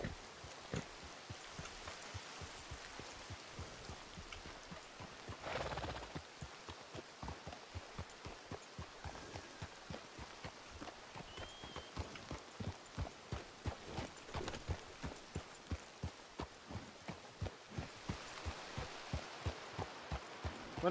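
Horse hooves clip-clopping in the western video game RedM, a steady rhythmic run of soft thuds at a trotting pace that continues throughout, faint against a low ambient background with no talking.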